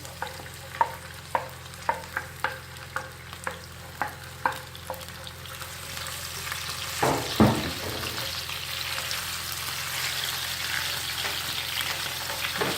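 Shredded onions dropped into hot oil left from frying plantain and gizzard, first a series of regular spoon taps, then a loud splash and a steady sizzle that keeps going.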